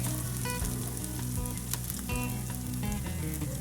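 Egg sizzling and frying in a pan, a steady dense crackle throughout with a light stirring clatter, close and fairly loud over faint background music.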